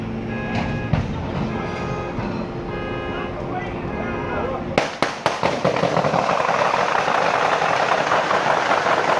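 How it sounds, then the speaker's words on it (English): Gunfire during the SWAT shootout at the Orlando nightclub mass shooting, a rapid burst of several sharp cracks heard from a distance, following a stretch of low engine-like rumble and background noise. "Again, those were gunshots."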